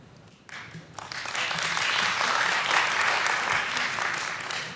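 An audience at a school board candidate forum breaks into applause after a quiet moment, the clapping swelling quickly into a dense, steady roar that holds and slowly tapers.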